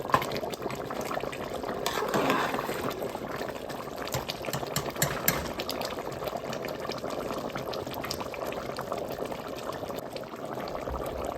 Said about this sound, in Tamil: இப்போ மட்டன் போன்ஸ் எல்லாம் நல்லா பாலில் அவியுது